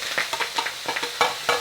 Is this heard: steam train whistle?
no